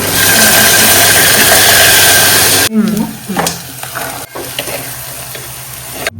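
A tempering of bay leaf, stone flower and clove sizzles fiercely in a hot pan, a loud, dense crackle that suddenly drops to quieter frying and stirring scrapes.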